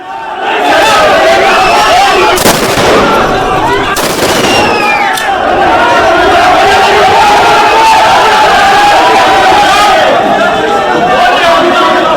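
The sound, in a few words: army firing shots into the air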